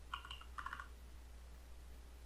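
Short burst of keystrokes on a computer keyboard, two quick clusters of light clicks close by, then quiet room hum with no talking.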